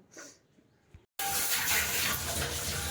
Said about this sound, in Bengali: প্রচুর বাসন হয়েছে বাসন কটা মেজে নিই